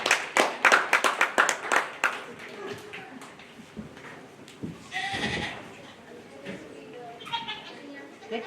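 Applause at a county fair dairy goat show: a quick burst of close, rhythmic clapping for about two seconds, then scattered claps with goats bleating and voices talking nearby.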